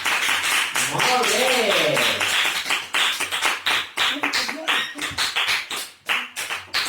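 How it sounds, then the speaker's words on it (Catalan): Audience clapping at a library storytelling session closes a told legend about stones in rivers: a dense burst of hand claps that thins into scattered claps, with a voice speaking over it. "Podeu aplaudir si us ha agradat."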